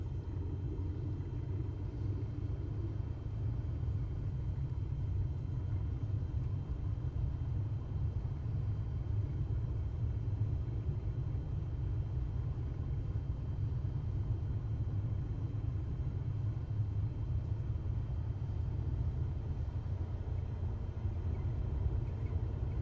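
An airliner in Microsoft Flight Simulator 2024 taxis over a bumpy taxiway, giving a steady, continuous low rumble of engines and rolling gear at a fairly faint level throughout.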